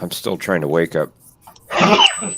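A single sharp sneeze bursts out right after a man's sleepy spoken remark on a casual morning livestream show, loud and close, followed by a faint high whistle.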